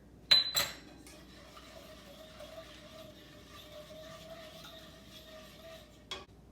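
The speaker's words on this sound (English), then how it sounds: "we're going to stir in 1/3 cup of sugar" A spoon clinks sharply against a pan a couple of times, then quietly stirs sugar into milk for tapioca pudding, with another clink near the end.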